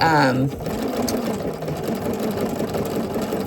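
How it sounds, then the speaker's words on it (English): Sewing machine running a zigzag stitch on swimsuit fabric, a steady rapid mechanical whir that continues after a brief spoken remark at the start. "So we are going to now sew with my zigzag stitch we've been using."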